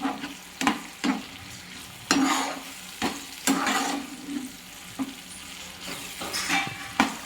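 Onion and broccoli stalks are stirred in a hot pan, each scrape landing roughly once a second over a continuous oily sizzle, close and fairly loud.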